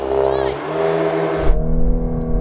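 Volkswagen Golf R cars launch side by side off the line in a drag race, engines roaring loud and close with a sharp surge in revs partway through, while people talk over the noise.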